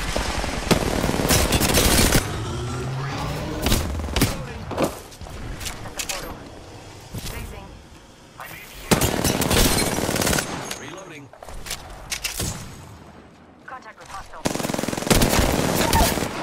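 Heavy automatic gunfire and bursts of shots in Apex Legends, loud and close, with long rattling volleys broken by pauses. In-game voice callouts come through between the bursts.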